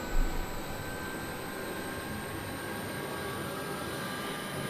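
Aircraft turbine engine running in a home flight simulator, a steady broad whine and roar with thin high tones, held at an even level throughout after a brief low thump at the start.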